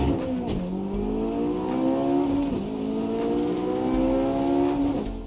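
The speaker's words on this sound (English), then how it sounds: "The 8th generation has a Revvy 2-liter engine that puts out 200 horses" An 8th-generation Honda Civic Si with a 2-liter engine revs repeatedly, its loud engine note climbing in pitch, dropping back and climbing again in three rising sweeps, with no talking.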